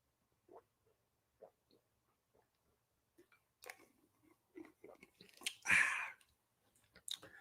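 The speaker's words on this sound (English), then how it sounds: "So let me take a few gulps." Gulps of water taken close to the mouth in a quiet room, a few soft swallowing sounds and wet mouth noises spread out over several seconds, ending in a louder gulp and a faint click.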